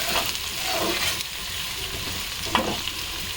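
Crab curry frying in a pan while being stirred, a steady broadband sizzle with a couple of scraping stir strokes, close and continuous with no talking.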